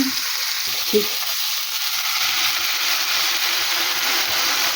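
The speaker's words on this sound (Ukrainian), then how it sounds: "Тут смажується рибка." Hake fish frying in a pan with vegetables, a steady close sizzle and hiss running continuously, with a faint brief clink near the start and no talk over it.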